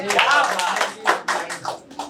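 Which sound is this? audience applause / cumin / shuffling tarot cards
audience applause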